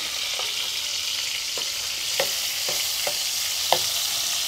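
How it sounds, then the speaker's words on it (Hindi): Red chili fries in refined oil and butter while being stirred, a steady sizzle with occasional scraping clicks of a spoon against the pan, close and without talk. "हम डाल रहे हैं रिफाइंड ऑयल, थोड़ा सा बटर, और अब डाल रहे हैं हम इसमें लाल मिर्च"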